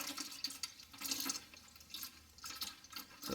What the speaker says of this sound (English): So just let it drain all the way out.